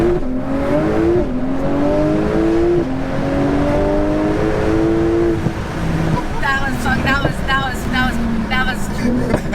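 A 1100 bhp Porsche 911 Turbo S launches hard and accelerates, its engine climbing loudly through several rising pitch sweeps with gear changes, heard from inside the car over a continuous road roar.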